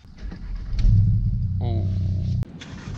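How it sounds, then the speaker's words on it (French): A Volkswagen Golf 7R with a stage 3 tune starts up with a short crank, then settles into a loud, close rumble that cuts off sharply near the end. "Donc on va démarrer ça"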